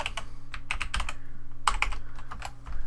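A password is typed on a computer keyboard in quick, uneven bursts of sharp clicking keystrokes, close and clear over a faint steady hum, with a brief pause in the middle and no speech.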